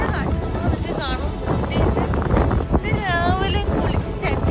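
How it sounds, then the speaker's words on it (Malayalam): Strong outdoor wind roars and buffets the microphone in a constant low rumble, with a voice speaking over it throughout. "ഭയങ്കര കാറ്റ്, ശ്വാസെടുക്കാൻ പോലും പറ്റാത്ത കാറ്റാണ്"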